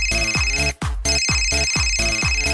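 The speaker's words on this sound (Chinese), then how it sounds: "老哥应该是在给莱斯特打电话" A telephone ringback tone plays during a call, close and loud, with a steady repeating electronic ring pattern that breaks off briefly once and then resumes.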